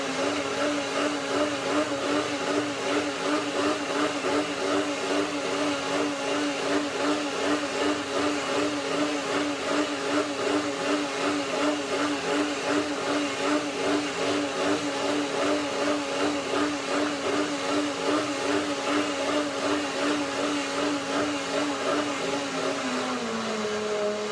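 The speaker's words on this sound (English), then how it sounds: "One more blender dance." A blender whirs continuously at high speed, churning pears into almond persimmon cream, with a steady motor whine and a rhythmic churning pulse that dips slightly in pitch near the end.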